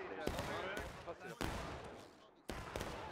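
Gunfire in the Civil War video game War of Rights, sharp musket shots cracking at irregular intervals over a constant battle din, some close and loud, with voices faintly mixed in.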